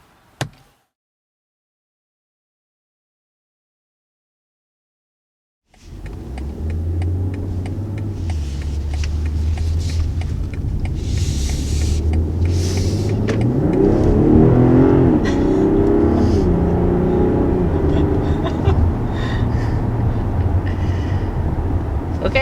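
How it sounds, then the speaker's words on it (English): A 2020 BMW X3 M40i pulls hard under acceleration after several seconds of near silence. The engine note rises steadily and stays loud from inside the cabin, and no one speaks. "First acceleration in the M40i X3."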